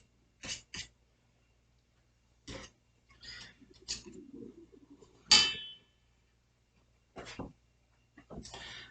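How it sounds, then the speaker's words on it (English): A spatula scrapes buttercream icing off the sides of a stand mixer bowl in a series of short, close, separate scraping strokes and light clinks with quiet gaps between them, and a voice murmurs briefly in the middle. "I'm going to go ahead and scrape that off."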